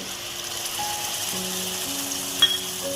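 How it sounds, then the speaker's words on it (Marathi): Tomato puree with onion sautéing in a pan makes a steady, moderate frying hiss with a brief clink midway, under soft tonal background music. "आता 1 मिनिटभर हा टोमॅटोची प्युरी मी चांगली परतून घेतली"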